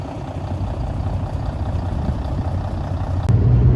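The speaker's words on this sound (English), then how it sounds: "Good news, I'm riding on a big bus" A deep, steady engine rumble fills the cabin of a large bus in Turda, Romania, droning continuously, with a brief clunk and a slight rise near the end.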